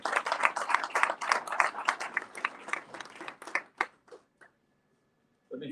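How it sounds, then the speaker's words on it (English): An audience at a climate action forum claps in a dense burst of applause that thins to scattered claps and stops, followed by a brief silence. "Let's give you a round of applause, whoever's been involved in all that."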